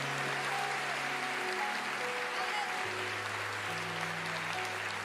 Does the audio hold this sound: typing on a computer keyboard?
no